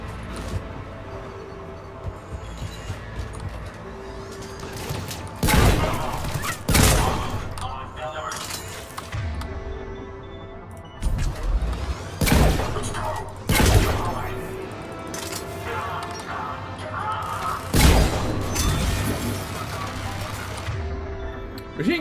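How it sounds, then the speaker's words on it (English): Bursts of automatic machine gun fire in a Mass Effect 3 combat scene come in repeated loud volleys across a long stretch, mixed with thuds and impacts, with spoken game dialogue in between. "Machine gun time."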